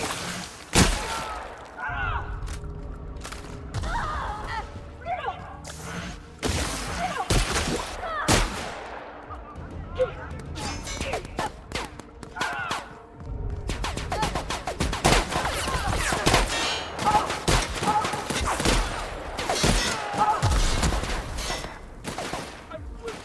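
Gunfire in the sci-fi role-playing shooter The Outer Worlds: scattered sharp shots and rattling bursts, some loud and close, others lighter, coming in irregular clusters with heavier volleys toward the end, while someone talks between and over them.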